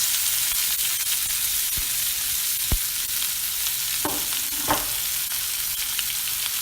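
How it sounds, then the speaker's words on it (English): Vegetables sizzle steadily in a hot pan, a constant hiss with occasional clinks and scrapes of a utensil stirring. "Make sure you get a good sizzle when you throw them in there."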